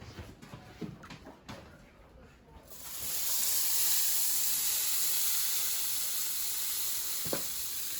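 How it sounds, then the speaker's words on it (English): Freshly sliced peppers hit a hot pan of caramelizing onions, and a loud, steady hiss of sizzling erupts after a few seconds of quieter handling sounds, holding strong to the end. "I'm going to go throw them into my pan that was caramelizing the onions."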